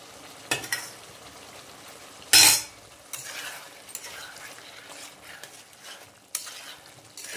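Egg chili with potatoes is sautéed in a pan, with a low sizzle under intermittent scraping stirs of a spatula and one loud metallic clatter partway through.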